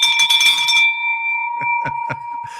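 A bell rung in a celebratory office setting, one strong ringing strike with a long sustained metallic tone that decays slowly, followed by a few shorter taps and rustling, loud and close.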